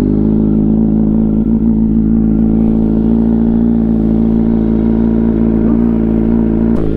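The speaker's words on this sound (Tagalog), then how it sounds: "Cold start tayo ng ating motor." A Kawasaki Z900 motorcycle idles after a cold morning start, a steady, loud, close engine drone with a low rumble that holds even for the whole stretch, with no talk over it.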